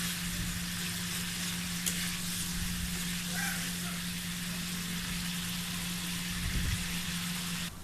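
Whole cinnamon and a piece of cardamom sizzle steadily in hot oil for rainy-day cooking, a continuous close crackling fry with a faint steady hum beneath.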